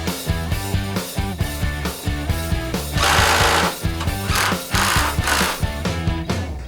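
A power tool, likely an impact wrench, backs out sway bar link mounting bolts on a vehicle, a loud, steady rattling hammer with rhythmic pulses that surges and dips through the whole stretch, close up with no talking.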